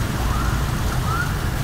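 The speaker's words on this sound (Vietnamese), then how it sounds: "phía ngoài trời đang mưa các bạn." Rain pours outside near a metro station under construction, heard from beneath a shelter as a steady, loud, dense hiss with no breaks.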